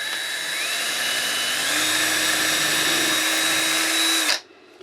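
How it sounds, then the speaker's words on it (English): A small drill bit bores through the center of a wooden dowel, a loud, steady high-pitched whine that holds for about four seconds before stopping abruptly. "So I've got a little bit smaller size drill bit, and I'm going to just put this through the center."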